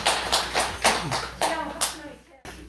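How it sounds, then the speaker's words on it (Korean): A temple congregation at a Sunday Buddhist service claps in a short, loose burst of several quick rhythmic beats that ends abruptly, with faint murmuring voices around it. "박수."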